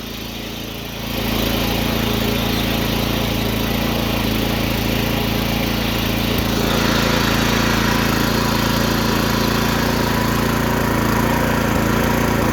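A mini tractor engine, which later breaks down, starts up and runs steadily in reverse on high range, a loud, constant droning hum with a low rumble and whine, close to the microphone, building slightly in intensity.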